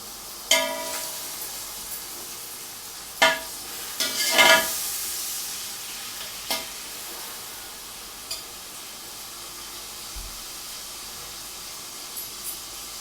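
Mutton pieces fry in a pan for yakhni pulao, giving a soft, steady sizzle with a few sharp clanks and scrapes of stirring and a brief burst of louder hissing partway through.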